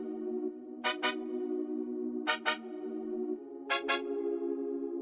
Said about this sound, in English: but I felt like I should add some short trumpets.